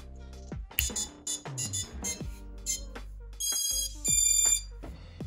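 Drone ESC motors play a tune of short, tonal electronic beeps in varying pitches, one after another with brief gaps, clear and close.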